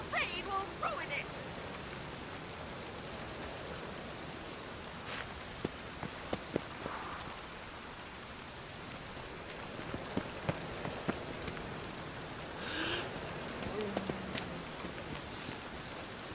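Steady rain pattering on surfaces in the city streets of The Witcher 3, a continuous soft hiss with scattered drips and small clatters, with background noises from the game.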